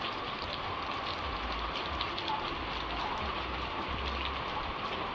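Heavy rain pours at Diani Beach by the Indian Ocean, a loud unbroken hiss with a low rumble beneath and no voices.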